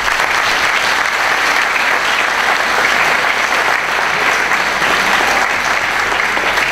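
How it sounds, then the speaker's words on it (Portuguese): A large gathering gives a loud, sustained round of applause, with many hands clapping in a thick, even wash that holds at full strength for the whole stretch. "eu peço uma grande salva e um forte salva de palmas para todas as pessoas"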